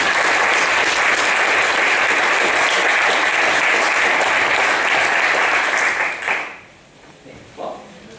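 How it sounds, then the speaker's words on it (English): A crowd at a Python session applauds to greet Guido van Rossum with loud, continuous clapping for about six seconds, then it cuts off and a faint voice is heard. "maybe we should greet him with our first round of applause"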